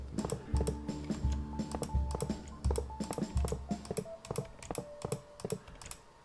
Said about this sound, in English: I don't have my silent mouse, so you hear a lot of clicking